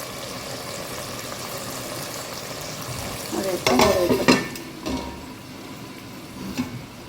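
Masala sautéing in a pan for a brinjal and dried fish kuzhambu, a low steady sizzle with a burst of louder stirring and scraping midway, then settling back to gentle frying.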